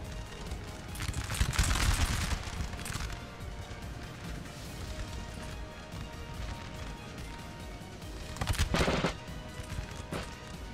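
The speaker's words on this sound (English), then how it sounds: "Got a shooting battle, line battle going off here between France and the United Kingdom" Massed musket volleys crackle through a Napoleon Total War line battle between French and British troops, two louder bursts of gunfire rising over a steady rumble of distant firing and battlefield noise.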